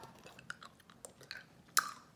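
Sour apple-flavoured candy is chewed close up, with quiet wet mouth sounds and a run of irregular crunchy bites, the loudest crunch near the end.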